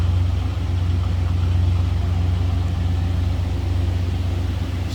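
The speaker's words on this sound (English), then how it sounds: "Check out this dual exhaust. Nothing over the top. Just a nice sounding 350 V8 underneath it." A 1956 Chevrolet 210 hardtop's 350 V8 idling through dual exhaust, a loud, close, steady low burble with an even throb and no voices.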